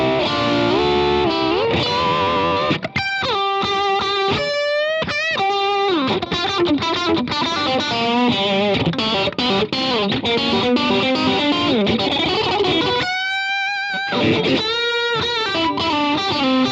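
Electric guitar through an Origin Effects RevivalDRIVE pedal on the US preamp setting, warm overdriven dumble-style tone, expressive bending lead lines and chords played loud and close with brief pauses.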